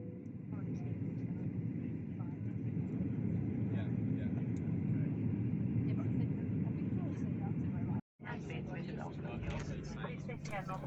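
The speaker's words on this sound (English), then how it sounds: "It was a bumpy landing" Passenger airplane landing in Italy, heard from inside the cabin as a steady loud engine and airframe rumble that cuts out briefly near the end, then resumes with a rattling roar.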